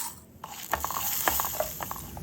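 Lentils, cumin and dried chillies roast in oil in a kadai, giving a steady close sizzle broken by short scraping stirs and light knocks of a spoon against the pan.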